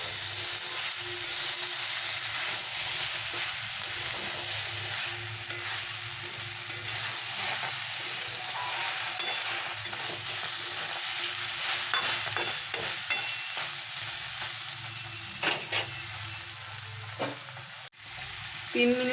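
Vegetables frying with ground ginger and green chili in a pan, a continuous loud sizzle and hiss with scattered stirring scrapes, plus a few utensil knocks near the end.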